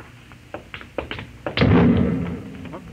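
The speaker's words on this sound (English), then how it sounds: "No, that was an explosion." An explosion aboard a ship sounds as a sudden heavy boom that rolls on and fades over about a second, preceded by several sharp taps and knocks.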